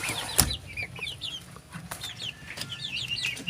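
Native chickens cluck and chirp in scattered bursts close by on a poultry farm, with a sharp flap or knock early on and a rustling outdoor background.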